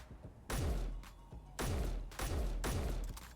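A weapon fires at explosives in Space Engineers, several heavy booming blasts in an uneven sequence, each with a deep low rumble and sharp onset, loud and close with no talk.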